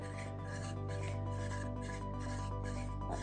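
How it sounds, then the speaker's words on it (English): Intense, continuous rasping as coralline algae is scraped off an aquarium GFO and carbon reactor, a steady close grinding that holds without pause and with no talk. "It sounds like it's like scraping really intensely."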